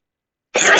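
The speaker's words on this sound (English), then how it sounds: "Gonna sneeze here." A single sneeze bursts out sharp and loud, close by, after half a second of silence.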